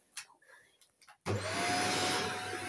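Vacuum suction pump pulling air out of a bag of squishies, switching on abruptly after soft murmuring and then running as a loud steady roaring hum close by.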